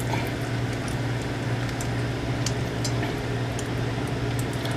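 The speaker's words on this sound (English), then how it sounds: "let's put in the first tomato. Ah, can you hear that sizzle?" Steady, dense crackling sizzle of a green tomato slice frying in a hot pan, continuous and fairly loud, with a low hum underneath throughout.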